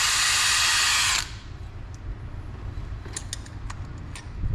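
A drill runs in a Honda cylinder head bolt hole with a loud steady whine for about a second, then cuts off. Faint clicks and handling noises follow over a low background rumble.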